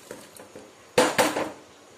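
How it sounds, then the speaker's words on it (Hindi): Mutton pieces tipped into a pressure cooker for Lucknow dum biryani, giving two close clanks of metal and meat against the pot, with faint clinks before them. "अब हम एक प्रेशर कुकर में ये मटन को ट्रांसफ़र कर देंगे।"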